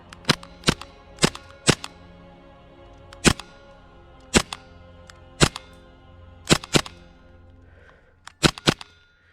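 An MP9 fired in semi-automatic mode, a string of sharp single shots at irregular intervals, about a dozen across the span, each a crisp loud crack with brief decay, closing with a quick cluster of three.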